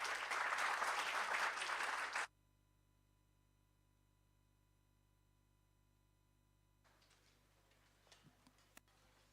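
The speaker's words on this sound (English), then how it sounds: "Please give them a round of applause." Summit audience applause rings out loud and dense for about two seconds, then stops abruptly, leaving near silence with a faint ticking and a few light knocks toward the end.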